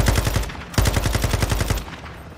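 Light machine gun in a video game firing rapid sustained bursts, loud and close, with a brief gap between two long strings of evenly spaced shots and no talk over it.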